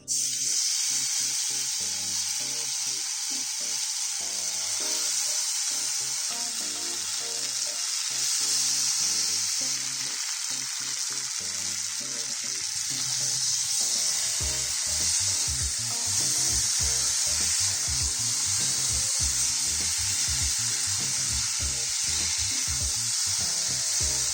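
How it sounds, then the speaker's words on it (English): Loud, continuous sizzling of paneer frying in hot mustard oil, a steady hiss with occasional clinks and stirring. "before the kadhai begins to heat, I'm going to slide in the pieces of paneer"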